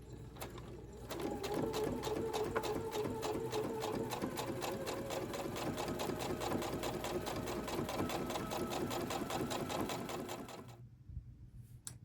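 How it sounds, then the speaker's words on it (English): A sewing machine runs stitches down quilted fabric strips, a steady fast mechanical chatter for about ten seconds that starts and stops cleanly, fairly quiet and close with nothing else over it. "I'm just going to run stitches all down through here on each of these strips"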